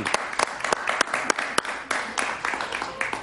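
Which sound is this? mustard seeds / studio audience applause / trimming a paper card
studio audience applause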